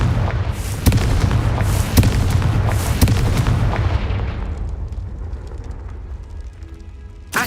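Confringo spell blasts in Hogwarts Legacy, a run of loud booming explosions about once a second for four seconds, then decaying into faint crackling debris and a final thump.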